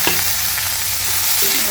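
Chopped tomatoes hit hot oil already frying ginger and garlic paste for an Assamese drumstick curry, setting off a loud, steady sizzle with a sharp burst at the start, close up and without voices.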